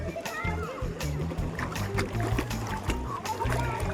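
Splashing water as a child jumps into a swimming pool, with splatter and sloshing under loud, continuous children's chatter and shouting.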